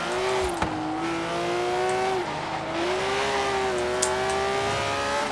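Porsche engine in Forza Horizon 3 holding a steady, droning tone with gear shifts rising and falling, loud and continuous, with faint tire noise in the background.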